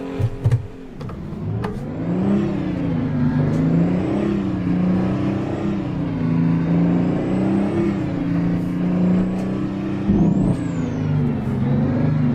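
Engine brake of a heavy truck in American Truck Simulator, a loud steady low-pitched drone that holds throughout with a slight wavering pitch, joined by a brief hiss near the start and a short rise around ten seconds.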